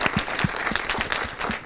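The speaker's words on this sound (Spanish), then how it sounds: "el aplauso para Diana" Brief burst of studio audience applause on a TV talk show, a handful of distinct hand claps blending into a light patter of clapping, short and moderately loud.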